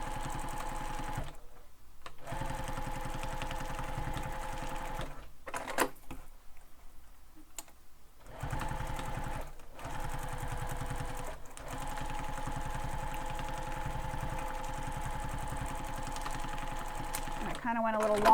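A sewing machine stitches backpack fabric in long, steady rapid runs with a few short pauses and stops in between, close and fairly loud, with brief handling noises near the end.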